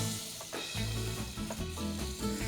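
Butter and olive oil melting and sizzling in a pan, a steady close crackling hiss under faint background music.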